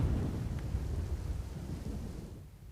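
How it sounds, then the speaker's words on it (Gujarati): Heavy downpour with rumbling thunder over Bhuj city, a dense continuous low roar of rain and thunder, steady and enveloping with no voices. "ભુજ શહેરમાં છે તે ધોધમાર વરસાદ છે તે વરસી રહ્યો છે"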